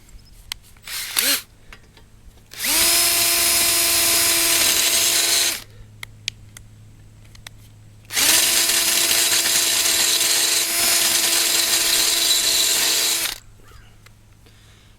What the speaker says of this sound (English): Take 8mm ratchet and just ratchet it down a little bit